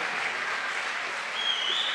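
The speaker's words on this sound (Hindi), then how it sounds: "तालियां" Steady, dense applause from the audience at an annual mushaira held at a medical college in Gujranwala, an even wash of clapping filling the whole moment.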